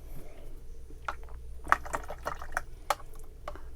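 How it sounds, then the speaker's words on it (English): A watercolor paintbrush rinsed in water, with close, faint swishes and small splashy clinks of the brush against the water container in brief, irregular bursts. "Now, I'm going to rinse my brush."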